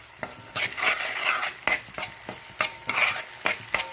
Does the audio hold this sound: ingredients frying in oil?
yes